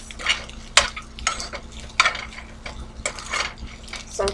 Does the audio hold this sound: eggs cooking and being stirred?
yes